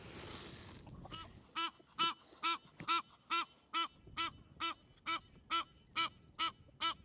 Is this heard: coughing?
no